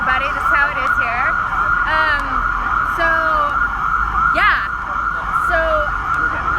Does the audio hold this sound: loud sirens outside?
yes